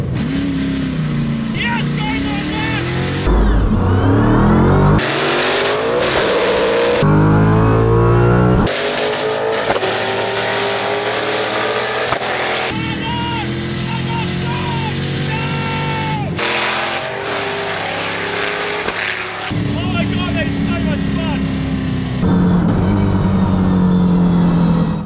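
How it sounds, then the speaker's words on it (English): A car on mud tyres unsuited to the track revs hard and races, with engine roars rising and falling across repeated gear changes, loud and close, while people talk over parts of the run. "Warming up my tyres, my mud tyres. Completely inappropriate for this kind of racing."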